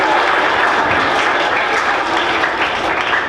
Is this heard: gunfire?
no